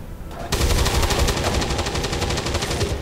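Sustained automatic gunfire in XCOM 2 erupts suddenly and continues as a loud, rapid, even stream of shots for the remaining few seconds.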